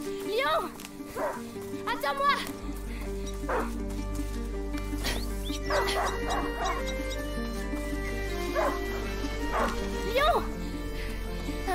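A dog barks and yips in the video game A Plague Tale: Innocence, short excited calls scattered through the passage over a steady low game hum, with someone talking throughout.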